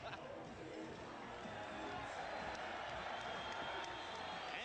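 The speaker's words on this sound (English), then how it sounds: "the crowd cheers for Larry Holmes" A boxing arena crowd cheers and applauds for heavyweight Larry Holmes, a dense, distant-sounding wash of cheering and chatter that holds steady and faint throughout.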